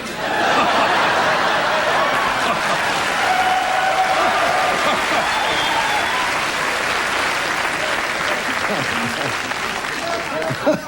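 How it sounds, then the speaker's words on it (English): Studio audience on the Carson Tonight Show applauds steadily for nearly eleven seconds, a dense even wash of clapping with scattered laughter and cheers mixed in. "Thank you for that applause."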